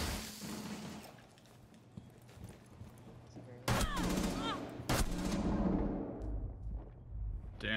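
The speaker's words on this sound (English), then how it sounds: "Damn, that shotgun hits." Shotgun blasts in the Rainbow Six Siege video game, two loud sharp booms a second apart cutting through busy in-game noise and a talking voice, the second shot ringing out into a lingering decay.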